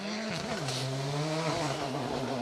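VW Polo R5 rally car engine working hard on an asphalt rally stage, a loud, close, steady high-revving drone with a brief dip and rise in pitch, heard alone without talk.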